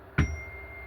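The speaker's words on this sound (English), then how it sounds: "Gotta ring the bell on that one." A single bright bell ding, struck once with a sharp attack and a short ringing tail that fades quickly, heard close and alone.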